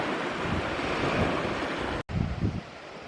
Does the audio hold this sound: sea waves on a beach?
yes